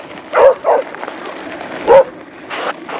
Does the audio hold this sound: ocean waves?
no